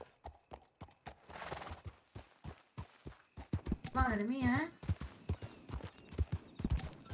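In a horse-ranch roleplay video game, hooves clip-clop in a quick, regular rhythm while a horse gives one loud whinny midway, with people talking over it.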